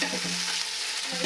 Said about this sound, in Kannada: ಮತ್ತು ಇಲ್ಲಿ ಈರುಳ್ಳಿ ಹಾಕಿದ್ದೀವಿ. ಮತ್ತೆ ಇಲ್ಲಿ ಫ್ರೈ ಮಾಡ್ತಿದ್ದೀವಿ.